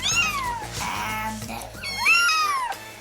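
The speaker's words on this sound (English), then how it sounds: "Fiona has found a home for 2 more stray kittens" Stray kittens meow repeatedly at a veterinary clinic, two drawn-out, rising-and-falling cries close by with a brief quieter gap between them, over faint background voices and room noise.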